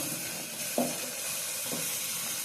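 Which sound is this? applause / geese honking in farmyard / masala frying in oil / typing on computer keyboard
masala frying in oil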